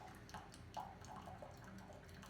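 Hot water from a Breville Aquastation purifier pours steadily into a mug, a soft continuous trickle with faint splashes, fairly quiet and alone.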